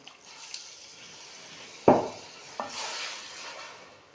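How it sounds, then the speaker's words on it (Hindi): Water is poured into a pot of red lobia (kidney bean) curry simmering on medium flame, with a brief splash followed by a second smaller one and a soft bubbling hiss afterward. "और 1 गिलास पानी ये मज़ीद डाल देंगे"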